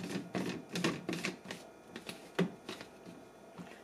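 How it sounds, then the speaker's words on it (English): A blade base hand-tightened onto a Nutribullet RX cup gives a run of sharp plastic clicks and ratcheting scrapes, close and uneven, irregularly spaced over a few seconds, with no voices. "Screw on the blade."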